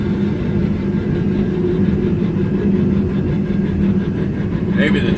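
A 1982 GMC square body truck rolls along with a steady drivetrain whine over low road rumble, constant and fairly loud throughout, with a brief higher-pitched squeak near the end.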